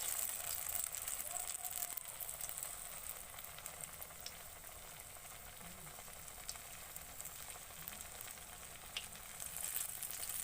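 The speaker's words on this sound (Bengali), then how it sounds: "আমি বেসনে ডুবিয়ে ফুলকপিগুলো ছেড়ে দিচ্ছি হালকা করে তেলের ওপরে।" Gram-flour-battered cauliflower florets fry in hot oil for pakoras, a constant soft bubbling sizzle that stays even and faint throughout with no speech.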